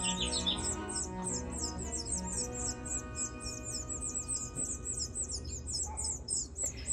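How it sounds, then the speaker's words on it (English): Small birds chirp in quick, high, repeated tweets over a low background hum, fairly faint and continuous like finches nearby outdoors. "another family of finches chirping outside my front"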